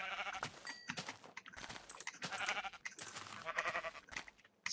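Several sheep bleats from the game Minecraft arrive in uneven bursts, nasal and wavering, close and fairly clear, separated by short pauses with no voices.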